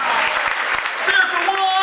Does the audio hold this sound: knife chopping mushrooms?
no